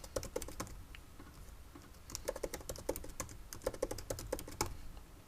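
Rapid, uneven keystrokes on a computer keyboard as a username and password are entered into a login form, with bursts of clicky taps and short pauses, close and fairly quiet.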